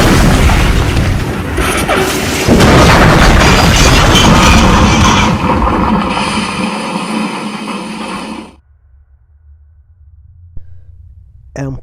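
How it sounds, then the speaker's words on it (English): A loud crashing roar with booming impacts and grinding metal as one train crashes into another and its engines derail, in the 1997 Delia, Kansas collision, building and then cutting off abruptly into near silence. "MP01 crashes into ME21's train at 2:15 a.m., derailing MP01's engines."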